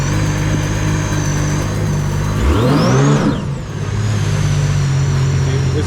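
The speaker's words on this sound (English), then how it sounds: "It's cavitating too much and not getting propulsion." An RXP jet ski engine drones loudly and steadily, then revs up in a sweeping surge as the pump cavitates and spins without grip, before settling back to a constant roar.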